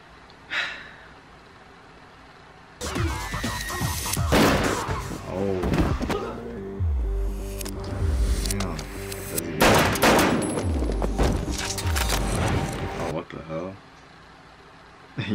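Loud bursts of gunfire from a briefcase gun in the 2000 film Romeo Must Die, with rapid sustained volleys and heavy impacts over several seconds, ending with a short pause and a final shot.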